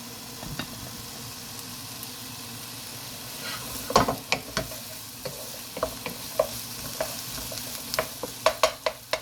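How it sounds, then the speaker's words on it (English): Vegetables frying gently in a pan for a spinach, potato and chickpea curry, with a steady soft sizzle and repeated clicks and scrapes of stirring that grow more frequent toward the end, close and moderately loud. "So just keep stirring it, keep it moving."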